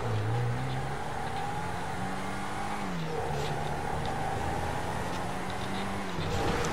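An off-road vehicle's engine drives steadily through GTA 5 Online, a continuous loud drone whose pitch rises and dips with throttle over several seconds, with no voices over it.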